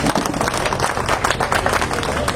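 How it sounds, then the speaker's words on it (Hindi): A crowd at a political debate event in Sarkaghat, Himachal Pradesh, claps steadily, dense and lively, a continuous patter of hands from a sizable audience. "मैं इनसे भी आग्रह करूंगा कि वो भी मंच पे आए और तालियों से स्वागत करें इनका"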